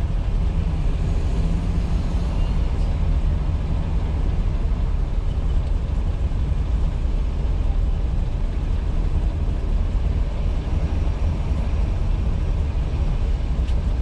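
A Springfield-built Phantom I car engine rumbles in a steady, deep, continuous drone while driving, close and unbroken, with no voices.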